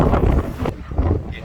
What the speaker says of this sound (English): it is windy as heck today